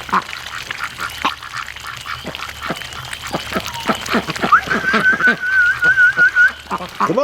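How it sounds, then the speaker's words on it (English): Ducks quack in short, repeated bursts close by, with a thin whistling tone partway through and faint background noise. "Wherever the ducks go, Doug seems to be not far behind"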